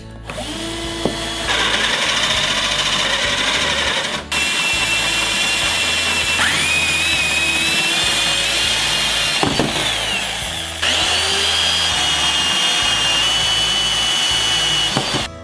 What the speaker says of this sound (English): I used a Forstner bit to drill the holes in the top of the cabinet